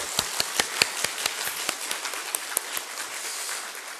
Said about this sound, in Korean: 우리 한번 그 찬양과 하나님 앞에 영광의 박수 한번 올려드립시다